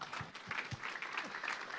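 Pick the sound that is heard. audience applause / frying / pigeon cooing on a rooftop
audience applause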